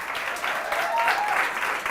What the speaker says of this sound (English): I want to give a very strong round of applause to the presenters